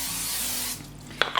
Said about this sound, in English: you're gonna take a 13 by 9 inch pan, and you're gonna spray it with a little cooking spray